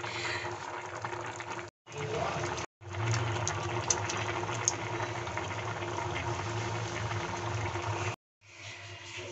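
Masoor (red lentil) dal with potato and tomato simmering in a pot, cooked in mustard oil, giving a steady bubbling, liquid texture that runs nearly continuously with two brief silent breaks.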